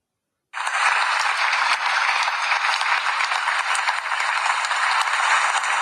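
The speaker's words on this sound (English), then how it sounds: "let's make some noise and a round of applause" A crowd on a New York podcast set bursts into sustained applause and cheering, a dense, steady wash of clapping that starts abruptly and holds at a loud, even level to the end.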